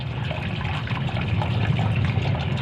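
Rainwater runs fast across a school roof deck, a steady, close rushing and trickling wash that holds at an even level throughout, with no voices over it.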